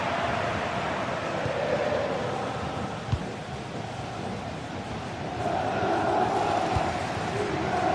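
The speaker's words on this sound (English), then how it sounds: "The crowd certainly think so. Just listen to them." Dense stadium crowd noise from a football video game, a continuous roar of cheering that swells slightly toward the end, with a brief thump midway.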